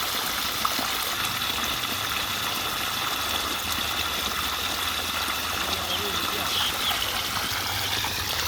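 Water gushing steadily from the pipe of a motor pump watering a farm field, a continuous close rushing flow with a low motor hum underneath.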